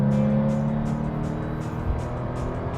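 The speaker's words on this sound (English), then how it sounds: "The noise from the engine behind me, the exhaust note is absolutely fantastic." A Porsche 911 993's throaty rear-engine exhaust drone holds a steady low note, heard from inside the car, with a faint rhythmic whoosh over it.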